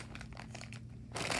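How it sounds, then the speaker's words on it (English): Plastic bag from a Beyblade unboxing crinkling quietly up close, soft rustling that grows into a louder crunch at the end. "They gave you the plastic bag."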